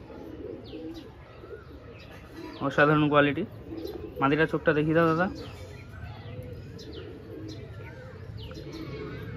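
Pigeons cooing in a home loft, two loud close bursts of throaty cooing in the middle, with softer bird sounds around them, while someone talks over the scene.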